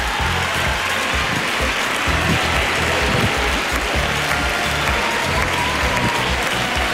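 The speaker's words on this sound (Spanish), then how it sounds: "con esta ovación que está sonando van a entrar en plató tu ahijado Manuel con tu gallina" A television studio audience applauds loudly and continuously, dense clapping that fills the whole stretch without pause.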